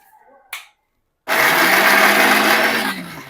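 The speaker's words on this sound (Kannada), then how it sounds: "ಇವಾಗ ಮಿಕ್ಸರ್ ಹಾಕ್ಬಿಡೋಣ." A kitchen mixer grinder whirs loudly and steadily while blending vegetable juice, kicking in after a brief click and pause and running as a close, continuous high-pitched motor drone that begins to wind down at the end.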